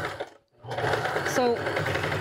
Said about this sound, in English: Now, I'll just finish sewing up these.